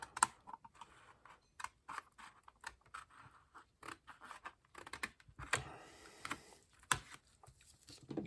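Scissors slice down the center of a CGC plastic comic slab in a string of quiet, irregular snips and scratchy clicks, close up and faint, with no talking.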